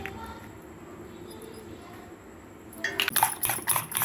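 Eggs beaten in a bowl for an omelette, starting after a long quiet hum as a rapid, rattling run of close metallic clinks and taps that grows busy and fairly loud, with no voices.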